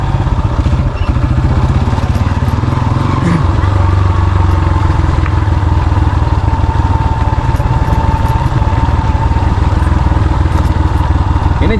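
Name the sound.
motorcycle riding on a rural road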